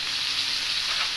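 Vegetables sautéing in oil in a pan, a brief, even hiss of frying heard up close with no talking.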